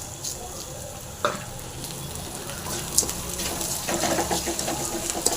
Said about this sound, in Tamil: அடுத்து கரவலையும் போட்டு அப்படியே ஃப்ரை பண்ணிக்கலாம்